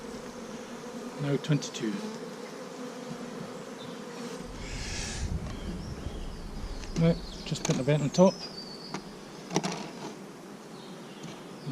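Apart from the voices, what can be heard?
honeybees buzzing around hive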